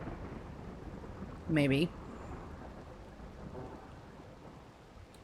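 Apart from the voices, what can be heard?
rainy thunderstorm in the video game Rimworld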